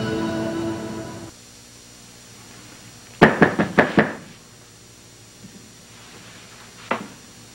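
Knocking on a door in a dramatic scene: a fast burst of five loud, close raps, then a single later knock after silence, following a fading musical tone.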